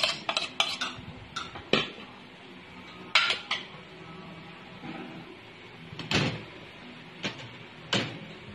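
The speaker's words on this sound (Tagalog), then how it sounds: "Lagyan natin po to sa isang bowl para i-mix muna natin yung lahat para lagyan natin sa ampalaya" Utensils clink and scrape against a bowl while sliced onion and tomato are tossed together for a bitter melon salad, a series of sharp knocks and rattles spaced apart, close and fairly loud.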